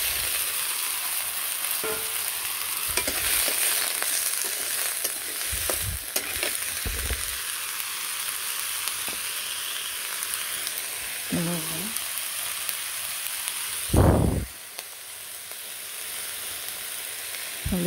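Mixed vegetables frying in a wok (kadai) after leaves were fried, a continuous close sizzle broken by scraping stirs and clanks of a utensil, with a louder burst near the end.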